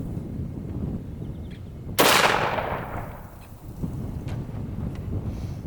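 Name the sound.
45 Long Colt copper pellet rifle shot fired into a field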